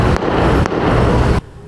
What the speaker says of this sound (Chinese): 光天化日下枪声大作。